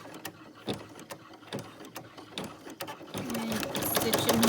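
A sewing machine stitches glitter vinyl with interfacing, its needle chattering in a steady run that grows louder and busier toward the end.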